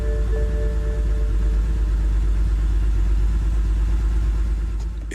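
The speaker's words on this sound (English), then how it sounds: "if you listen closely to the engine, you can hear it missing a cylinder" A car engine idles steadily with cylinder 6 misfiring, a continuous low rumble that holds close and even for the whole stretch with no voices.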